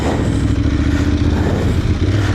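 An Aprilia Tuareg Rally motorcycle engine held in first gear while maneuvering slowly offroad, a steady, close, rumbling drone at low revs with no clear throttle changes and some faint clatter, and no talk.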